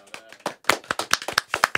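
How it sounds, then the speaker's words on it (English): A few sharp hand claps in a quick, slightly uneven rhythm, close and fairly quiet, with faint talk underneath. "You like this little clap?"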